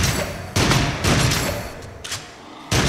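Guns firing at a monster in the VR horror shooter Rush of Blood, several loud, punchy shot bursts in quick irregular succession, close and alone, with short gaps between volleys.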